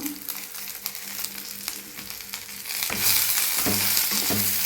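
Tomato dropped into a hot frying pan with herbs, a steady close sizzle broken by stirring scrapes, swelling louder and brighter partway through, with no talking.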